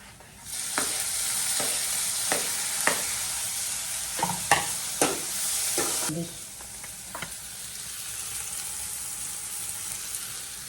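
Onion and tomato roast in a pan for potato gravy with a loud, dense sizzle and repeated spatula scrapes for about six seconds, then the frying settles into a quieter hiss.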